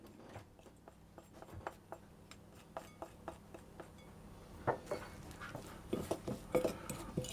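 Flour being stirred into oats in a bowl, a faint steady series of light clinks and taps from a utensil against the bowl, growing slightly busier toward the end, no talking.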